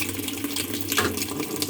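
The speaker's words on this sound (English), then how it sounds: "I'm going to add a little bit of water just to make sure" Water running into a Kenmore/Whirlpool washing machine during a repair test, a steady rushing splash throughout, fairly quiet and close, with no talking.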